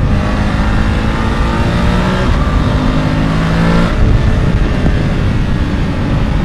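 A BMW F850 GS, a 90-horsepower mid-size adventure motorcycle, accelerates hard with a loud, steady engine roar and rising revs throughout, the tone shifting partway as it pulls on, with no talk over it.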